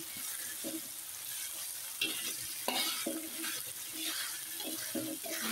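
Grated young coconut and chicken sizzling in hot oil while being stirred in a pan, a steady frying hiss with intermittent scraping and stirring clatter, close and fairly quiet, with no voices.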